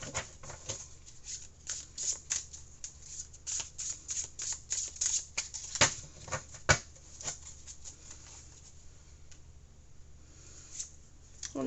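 Light Seers Tarot cards are shuffled by hand in a steady, crisp riffling patter of many quick card slaps, close and clear, easing off toward the end with no talking.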